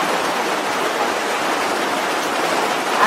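Heavy rain pours steadily as a dense, even hiss of falling water with no distinct drops, loud and unbroken throughout, with no voices.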